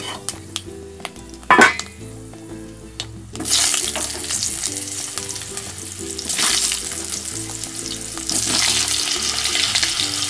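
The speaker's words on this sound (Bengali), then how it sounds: "আলু টালুগুলো সব ভেজে নেব।" Potatoes with five-spice seeds dropped into hot oil in a kadai for a fish curry: a quiet stretch with a few clinks, then a loud, steady frying hiss that carries on to the end, with no one speaking.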